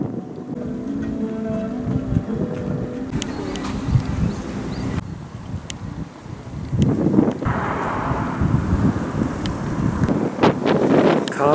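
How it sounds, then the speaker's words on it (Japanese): Gusty wind outdoors beside a lake in Hiroshima buffets the microphone, rising and falling in rough bursts, with faint tonal sounds early on and brief clicks scattered throughout. "風があります。"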